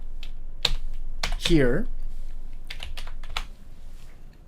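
A few sharp computer keyboard keystrokes while a date is typed into a form, with a short burst of speech in the middle and scattered clicks before and after.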